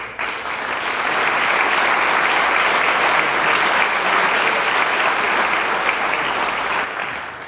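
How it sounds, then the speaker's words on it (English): A hall-of-fame banquet audience breaks into full, dense applause that swells quickly and holds steady and loud for several seconds before cutting off. "Would you please give him a round of applause?"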